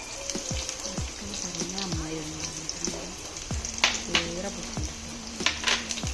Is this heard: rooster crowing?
no